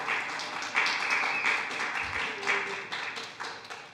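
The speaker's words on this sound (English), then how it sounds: "that will be the last time we have clapping or anything that relates to an outburst for either side" An audience claps at a town planning board meeting in a hall: a few seconds of dense, steady applause from a crowd, fairly close, with no talk over it.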